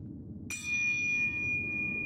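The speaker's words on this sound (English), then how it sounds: "I love the sound of a bell." A single clear bell strike in the video game Sekiro: Shadows Die Twice rings out after a quiet moment, its bright tone sustaining evenly without fading.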